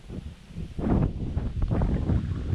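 Gusty wind buffeting the microphone, a rough low rumble that surges in waves and stays strong throughout.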